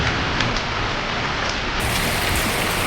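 Steady rain falls outdoors as a dense, continuous hiss with scattered drop impacts, loud and close, with no voices and no breaks.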